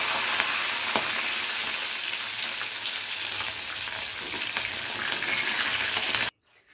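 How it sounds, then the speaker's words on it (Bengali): Pieces of fish fry in hot oil in a pan for a Bengali fish curry, giving a loud, dense, continuous sizzle with crackles close by. The sound cuts off abruptly near the end. "তো সমস্ত মাছ আমার ভেজে নেওয়া হয়ে গেছে, আমি এবারে এক এক করে মাছগুলোকে তুলে নেব।"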